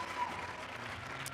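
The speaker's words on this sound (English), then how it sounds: "let's give these two a big round of applause" Audience applause at a women's cricket league grand final, a quiet, steady wash of many hands clapping heard from a distance, brief and even.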